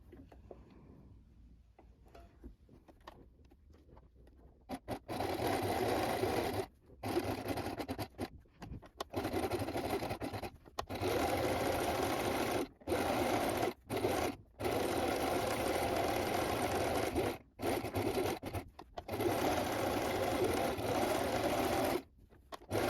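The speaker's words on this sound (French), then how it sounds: "Pour cela, vous allez réaliser un point zigzag." Sewing machine stitching a zigzag at high tension and short stitch length, running in long steady bursts broken by brief pauses, close and loud with a fast rhythmic whir.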